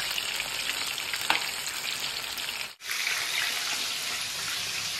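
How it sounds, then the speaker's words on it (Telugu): Chicken lollipops deep-fry in hot oil over a high flame, giving a dense, continuous sizzle heard up close that briefly drops out for a moment before resuming. "ఇది బాగా ఫ్రై అయ్యే వరకు హైలోనే పెట్టి ఫ్రై చేసుకోండి."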